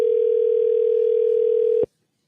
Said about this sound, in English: That's not actually ringing yet. Now it's ringing.